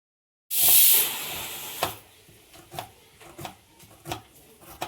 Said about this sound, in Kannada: ನಮ್ಮ ಅಮ್ಮಮ್ಮ ಮನೇಲಿ ಫಿಶ್ ಫ್ರೈ ಮಾಡ್ತಾ ಇದ್ದಾರೆ